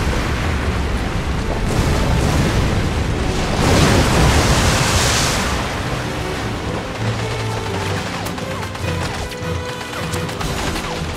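Loud, continuous rumbling blasts and crashes from the video game James Bond: Blood Stone, a dense wash of booming explosions that swells in the middle and keeps going throughout.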